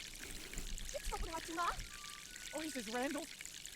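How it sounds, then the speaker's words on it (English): A soft, steady trickle and pour of water leaking from walls in the game Ghost Master runs throughout while someone talks over it. "Now there's water coming out"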